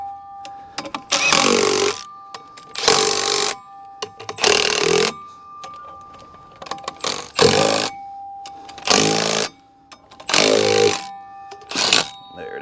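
A power tool fitted with a 3/4 socket backs out half-inch drive bolts on a Bobcat T750 sprocket during drive motor service, sounding in repeated loud, harsh bursts of a second or so with brief gaps of quiet between them.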